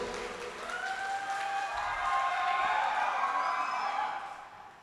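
Audience applause at a mushaira in Deoband, a broad, far-off wash of many hands clapping that swells to a peak midway and then fades away.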